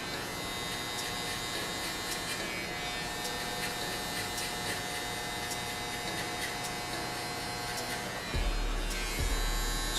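An electric hair clipper buzzes steadily and close during a haircut, held against the skin to feather out weight, with a brief bump and handling noise near the end.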